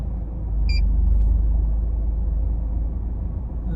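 A car engine idling low and rumbling close by while maneuvering to park, a steady deep drone with a brief high beep near the start.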